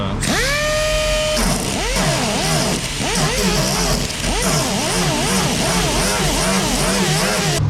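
A grinder fitted with an 80 grit sanding disc works VW bus bodywork during dent removal. It whines up to speed, then rises and falls in pitch as the disc loads against the metal, close and loud throughout.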